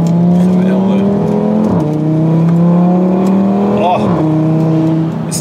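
Audi RS3 Sportback five-cylinder engine revving hard, a loud, sustained growl that dips and climbs again as gears change, close and dominant throughout.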